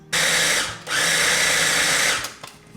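An electric food processor set to chop runs in two bursts, briefly stopping between them, as it chops sausage; the loud, steady whirring buzz ends with a few clunks.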